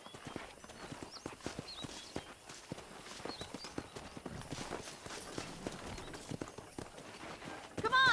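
Horse hooves clip-clop steadily in Red Dead Redemption as a rider heads out toward a pack of wild horses, a continuous trotting patter of soft thuds with a brief louder burst at the end.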